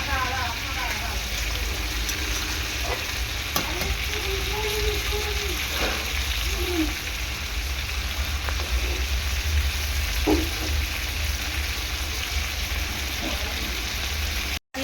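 Large giant freshwater prawns fry in hot oil, a dense, continuous sizzle and crackle running the whole time, with brief stirring noises and a faint voice in the background.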